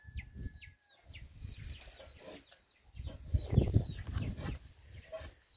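Hens at a nest during egg collection on a farm give low, repeated clucks and murmurs, fairly close, in uneven bursts with brief pauses, with some light rustling.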